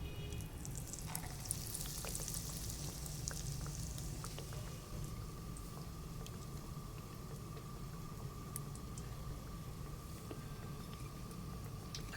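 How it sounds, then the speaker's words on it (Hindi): Breaded chicken and potato kebabs frying in oil, a soft, even bubbling sizzle heard steadily at low level with faint background hum and no talk. "और फिर अब हम इसे फ्राई करेंगे।"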